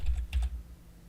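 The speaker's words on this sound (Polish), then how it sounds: "wpisuję tutaj hasło składające się minimum z 8 znaków" A few quick, soft keystrokes of a password being typed tap in a short cluster on a computer keyboard, then stop, leaving quiet room tone.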